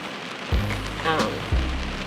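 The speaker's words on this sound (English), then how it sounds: "it is really raining, really hard. Like you can hear that rain." Heavy rain falls outdoors in a steady soft patter, with low thumps and faint background voices mixed in.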